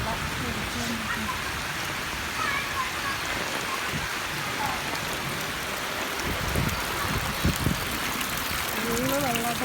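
Irrigation water flows and trickles through a field channel, a constant wet rushing hiss close by, with faint voices in the background now and then.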